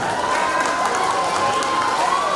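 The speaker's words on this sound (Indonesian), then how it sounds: "Tepuk tangan dong untuk beliaunya." Audience applause at an award ceremony for top civil servants, a steady, even wash of clapping from a large crowd, continuous and without a clear peak.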